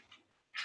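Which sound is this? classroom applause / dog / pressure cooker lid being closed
dog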